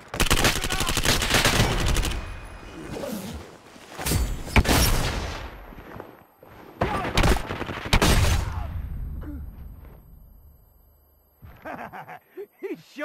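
Rapid bursts of gunfire from a PP-19 Demon submachine gun in the shooter game Lost Light, loud and close, firing in several clustered volleys with short gaps and quieter moments near the end.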